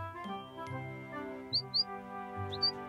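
A small cartoon bird in a French Caillou episode chirps in two quick pairs of high tweets over gentle background music, with no talking.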